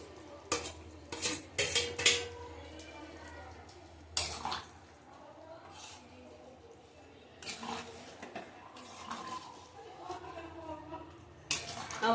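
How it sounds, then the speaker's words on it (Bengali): Paneer going into a pan of chickpea curry, then a lid set on: several sharp metallic clatters of utensils and cookware, a short scraping stir, and quieter pauses, with someone speaking at times. "এবার পনিরটা দিয়ে দেবো, পনিরটা দিয়ে দেবো, দিয়ে আবার ঢেকে দেবো।"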